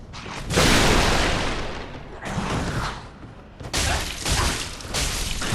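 Heavy impacts from a Dark Souls III fight as an attack glances off a raised shield, loud broadband clashes and bursts repeating in three surges with a brief dip between.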